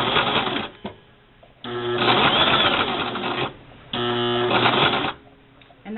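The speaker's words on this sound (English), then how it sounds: "That is straight stitch sewing with the Brother LX3014." A Brother LX3014 sewing machine running straight reinforcing stitches, its rapid mechanical whir coming in two long bursts separated by short pauses, loud and close.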